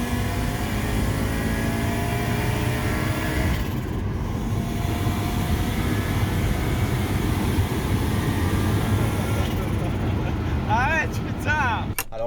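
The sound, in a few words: Audi S2 five-cylinder turbo quattro accelerating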